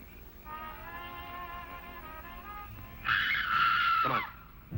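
A faint wailing scream carries across a lake at night, a thin drawn-out cry heard far off, followed by a brief louder shriek that falls away.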